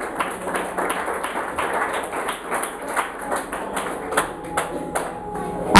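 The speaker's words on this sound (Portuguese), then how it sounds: "louvar o Senhor com as palmas bem fortes para Jesus" A church congregation claps together in praise during a service, a fairly quick rhythmic run of hand claps repeating steadily throughout, moderately loud and close.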